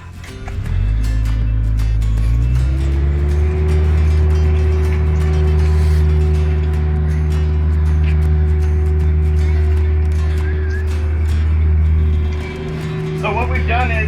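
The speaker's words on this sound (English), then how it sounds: "as long as Aaron keeps the tracks to the excavator no closer than a foot to our stream bed" A tracked excavator rumbles steadily nearby as it drives toward a pond under construction, a deep continuous engine drone with clanking tracks over several seconds, with a brief shout from someone in the background.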